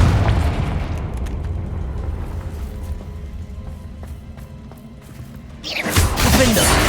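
A Confringo fire spell erupts in the video game Hogwarts Legacy, with a loud booming blast at the start that fades into a quieter rumble before a second heavy burst near the end, and a voice calls out around it.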